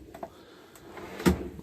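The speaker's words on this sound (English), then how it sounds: "Push the button underneath, will get you into your utensil drawer" A utensil drawer in the kitchen of a 2014 Burstner Ixeo Time 710G motorhome is released by a push button and slides open, giving a few light clicks and then a louder thud, close by.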